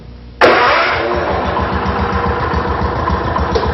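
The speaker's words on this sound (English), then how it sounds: "Disengage the choke once the engine's running." The gas engine on a Line-ward L2 vibratory plow cranks and catches abruptly, then settles into a loud, close, rapid chugging idle with the choke still on, alone without any talk.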